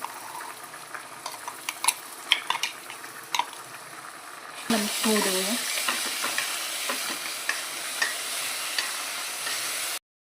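Popti bean curry frying in a pan while being stirred, with soft clinks of the spoon followed by a louder burst of sizzling that continues steadily until it stops abruptly.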